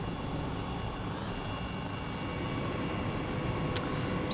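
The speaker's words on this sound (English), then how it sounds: "With the Red Bull helicopter, of course." The Red Bull helicopter in Flight Simulator 2020 hums steadily with a constant engine and rotor drone. The sound stays even and moderately loud throughout, with one brief faint tick near the end.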